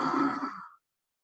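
One deep breath during a breathing exercise, a single breathy rush of air about three quarters of a second long that fades out quickly and is followed by silence, close and alone with no words spoken.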